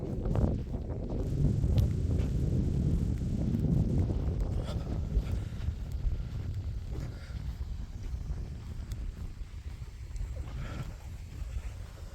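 Blustery wind buffets the microphone outdoors near a remote bothy, a loud, rough rush that swells early and then eases into gusty noise with occasional faint knocks.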